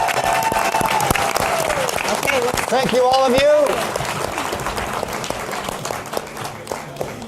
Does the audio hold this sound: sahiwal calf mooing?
no